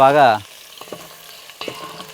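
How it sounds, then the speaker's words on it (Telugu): Nalleru (veld grape) stalks fry in a pan with a soft, steady sizzle, preceded by a brief tonal sound at the very start. "నల్లేరు కాడలు మాత్రం బాగా వేగాలి, మెత్తగా అయిపోవాలి."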